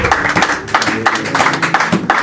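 Church congregation applauding together during a French-language sermon, a steady patter of many hands clapping loudly and close for a couple of seconds, with no talk over it.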